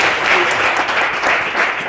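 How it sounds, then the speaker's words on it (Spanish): A church congregation bursts into applause, dense sustained clapping from a large crowd that fills the space, loud and continuous with faint voices mixed in. "Denle ese aplauso a Jesucristo, hermano"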